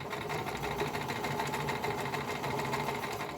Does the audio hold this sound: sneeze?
no